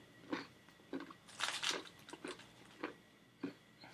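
A handful of spicy chili lime habanero snacks is bitten and chewed up close, a string of crisp crunches with pauses between bites, some louder crackling bursts in the middle, no talking.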